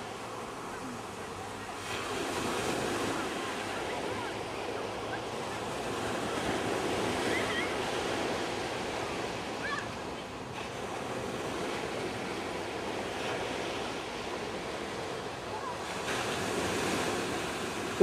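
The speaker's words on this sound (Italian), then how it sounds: "come batte il mare con tutta questa cresta" Rough sea at Gizzeria, with waves crashing on the shore in a continuous surging roar, mixed with heavy wind buffeting the microphone.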